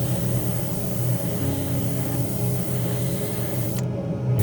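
Compressor-fed spray gun lays 2K varnish onto a scale model Ford Mustang Hoonicorn body, a continuous close hiss with a low compressor hum beneath, cutting off sharply just before the end.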